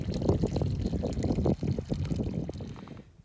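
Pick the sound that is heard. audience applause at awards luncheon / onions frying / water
water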